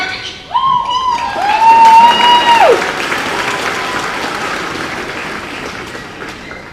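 A large audience at a high school graduation ceremony breaks into loud applause and cheering, led by a long whistle or horn-like blast at the start, then a steady wash of clapping that slowly fades.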